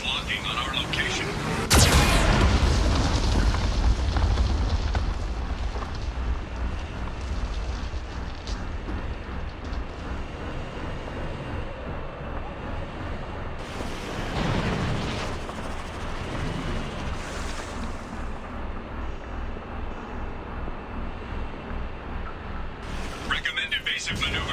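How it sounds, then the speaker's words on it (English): Geth cannon fire in the Mass Effect 2 video game: heavy booming blasts and rumbling explosions, loudest early on with another burst midway, over dense game background noise and an intermittent synthetic warning voice. "Warning, Geth cannon is locking on our location."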